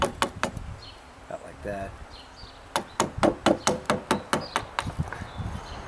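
A carving tool is tapped into a wooden walking stick to deepen a line, giving a rapid run of about a dozen sharp, close knocks in a steady rhythm, with a few earlier taps and a brief spoken remark.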